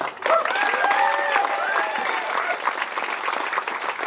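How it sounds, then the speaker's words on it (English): Audience applause for the mayor at a press conference opening a ball park library lab: steady, dense clapping from a crowd nearby, with a voice or cheer mixed in over the first few seconds. "let's keep the applause going"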